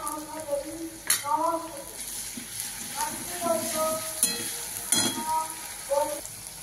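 Chopped onion and garlic paste frying in a pan for maan kochu bharta, a steady sizzle running throughout beneath intermittent talking, with a few sharper spoon or pan knocks.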